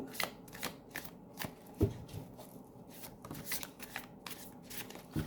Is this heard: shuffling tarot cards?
yes